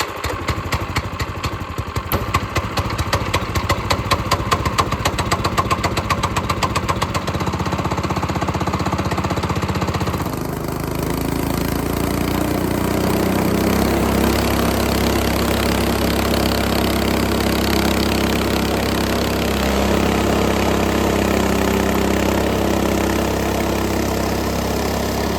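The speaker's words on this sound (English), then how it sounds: "This Lifan 7-horse motor has treated me really well so far." A Lifan 7-horsepower gasoline engine on a Frontier OS18 sawmill chugs loudly with a rapid rhythmic putter for several seconds, then settles into a smoother, steady drone as the saw cuts a Russian olive log.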